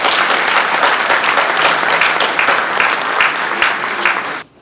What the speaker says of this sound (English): give them a round of applause, especially the gate starter